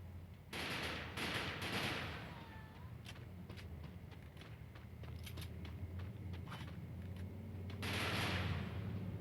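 Rapid bursts of SCAR-L rifle fire in the shooter game Bleak Out, with crackling volleys opening and closing the stretch and scattered sharp single shots between them, fairly faint over background noise.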